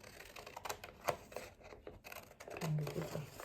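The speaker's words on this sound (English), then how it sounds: "So I'll just trim it out from the paper." Scissors trim through paper while a fabric turban cap with a petal design is being made, giving quiet, close snips and crisp cutting sounds in short irregular bursts.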